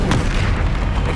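A fire spell, Incendio, cast in the video game Hogwarts Legacy erupts as a short, loud fiery boom with a rushing burst that fills the brief moment.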